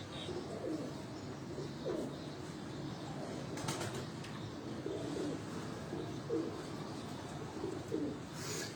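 A golden, light khaki flying-breed pigeon on a rooftop coos softly, repeating low murmuring calls at a steady pace over faint background noise.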